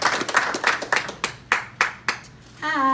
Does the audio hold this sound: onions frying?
no